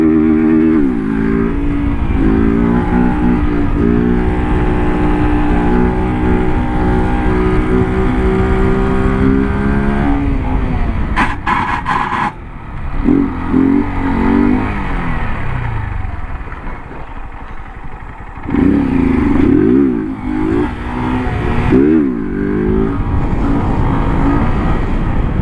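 Two motorcycles rev in long, loud, continuous drones close by, their engine pitch rising and dropping repeatedly with brief throttle dips and surges.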